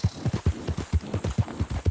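Horse hooves clip-clop steadily on the ground in Red Dead Redemption 2, an even trotting rhythm of about a dozen close, fairly loud thuds with a low hum beneath.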